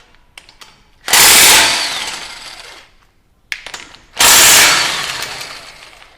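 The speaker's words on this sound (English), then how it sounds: "Now we're going to take a 19mm socket and remove these 2 lower ball joint bolts." An impact wrench with a 19mm socket loosens the lower ball joint bolts on a Toyota Tacoma in two loud, sustained bursts about three seconds apart, with faint clicks and rattles between them.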